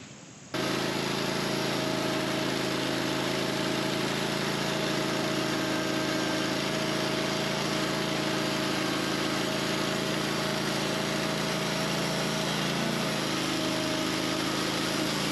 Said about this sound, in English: It's idling too fast,